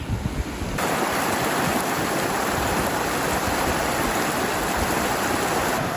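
A mountain stream on Jasper's Skyline Trail runs in heavy flow, a loud, steady close-up rush of water that continues without a break and with no talking.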